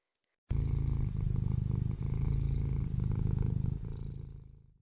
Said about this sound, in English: Can you purr like a cat?